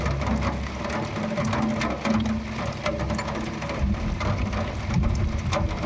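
Steady rain pours down outdoors for the whole stretch, a dense close hiss of drops striking surfaces with a low rumble underneath, no voices.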